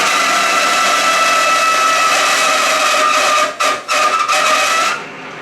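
A Falex oil test machine runs under increasing load as the S3 oil begins to fail, with a loud steady grinding whine that breaks into a few brief dips before winding down.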